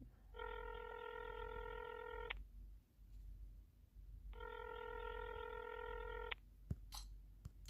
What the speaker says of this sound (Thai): วีร เก้าแปดเจ็ดหกสี่กดโทรออก